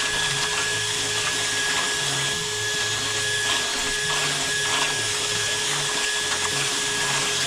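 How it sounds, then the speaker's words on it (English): An electric drill fitted with a mixing paddle churns a heavy mix in a bucket during shed building, giving a loud, constant whirring drone with slight strain wobbles throughout and no speech. "This is the worst part for a drill, when it gets a bit heavy like this."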